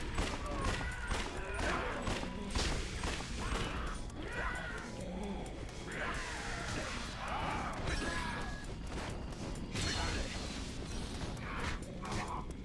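Gunfire rattles in the zombie action game Yakuza Dead Souls, with rapid repeated shots and crashing impacts spread across the scene, moderately distant and busy over a layer of other game sounds.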